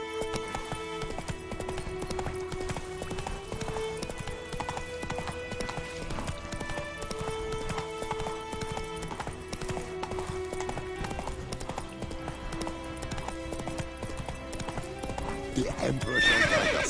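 A horse gallops in The Witcher III, with steady, rapid hoofbeats and a whinny over game music, and a voice speaks briefly near the end.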